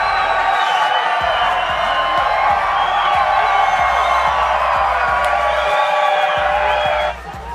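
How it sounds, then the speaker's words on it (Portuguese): Football crowd at the Copa Norte 2018 final, Fluminense against Operário, roars and cheers steadily after Fluminense's opening goal, a dense sustained wall of voices that drops off abruptly at the end. "A torcida vai ao delírio."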